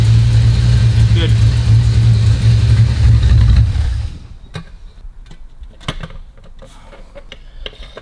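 A Cobra replica's big V8 with a large pancake air filter idles loudly with a deep steady rumble, then shuts off after about four seconds, leaving quieter clicks and handling noises.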